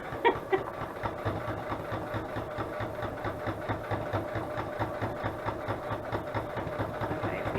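A sewing machine stitches paper ephemera onto a journal page with a steady, rapid, even run of needle pulses, close up with a low motor hum underneath.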